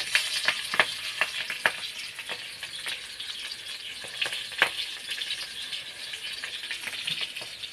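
Black cumin seeds and green chilies tempering in hot oil, a continuous close sizzle and crackle with sharp irregular pops and spatters, with no talking.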